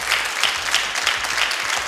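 Audience applause during a birthday celebration event, steady dense clapping that swells in several waves, close and fairly loud, with no talking over it.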